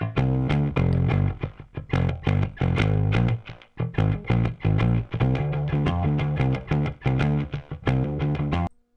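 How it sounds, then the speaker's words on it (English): A distorted electric guitar audio loop with delay plays a rhythmic, choppy groove of loud chords and notes, with short gaps between phrases and no talking. "Now you hear some distortion, you hear some delay."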